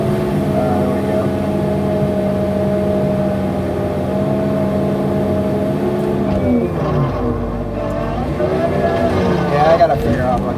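A turbocharged engine with an aftercooler and a suspected fault runs loud and close, a steady droning hum that shifts pitch and wavers in its later part.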